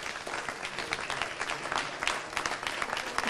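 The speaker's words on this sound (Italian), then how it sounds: "Facciamo un grande applauso" Audience applause at the inauguration of an Expo in Alta Val Trebbia, a dense, steady burst of many hands clapping, heard alone.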